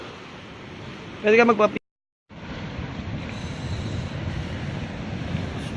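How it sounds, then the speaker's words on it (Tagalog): Strong sea waves surging against a rocky shore on a windy coast, a broad rushing wash with wind buffeting the microphone, briefly interrupted by a voice and a moment of silence. "Grabe na alon."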